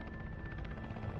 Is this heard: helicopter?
yes